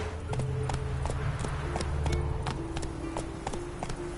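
Roach, a horse in The Witcher 3, gallops with steady clip-clop hoofbeats in a quick even rhythm, moderately close, over a low ambient bed with no talk.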